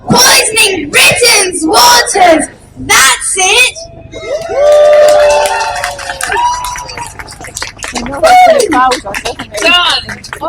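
A crowd at a wildlife rally over Britain's waters yells and chants back at a speaker leading the call, loud and close, with bursts of shouting, a longer sustained roar of voices, and whoops and cheers.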